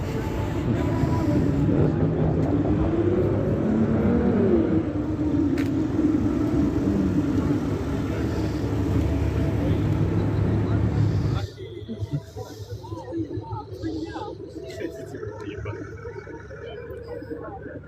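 Three or four police cars drive past on a road, a loud rolling whoosh of passing vehicles that drops sharply partway through, leaving quieter background noise.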